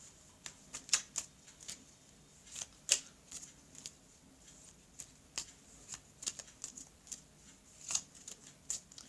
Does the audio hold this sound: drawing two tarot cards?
yes